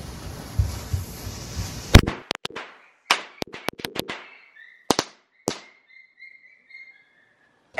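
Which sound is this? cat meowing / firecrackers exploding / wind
firecrackers exploding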